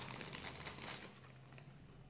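Crinkling plastic packaging as a Logitech MK240 Nano wireless mouse is unboxed, a dense run of close, soft rustles and crackles that eases off toward the end, with no talk.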